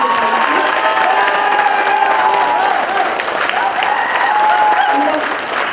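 Audience applause at a training closing ceremony in Tiruppur, a dense, steady wash of many hands clapping together throughout, with faint crowd noise mixed in.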